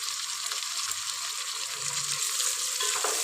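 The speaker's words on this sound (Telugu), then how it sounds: "ఆనియన్స్ ఫ్రై అవుతున్నాయి కదా, ఇప్పుడే మనము పుదీనా కూడా యాడ్ చేసుకోవాలి" Onions and mint frying in a pan for chicken biryani give a steady, loud, close sizzle with an even hiss throughout. A few soft low stirring thuds come partway through, and no one talks.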